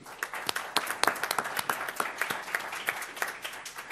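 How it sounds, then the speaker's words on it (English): Sparse, distinct hand claps from a small audience at a board meeting, irregular and moderately quiet, with no talk over them. "Let's give her a round of applause."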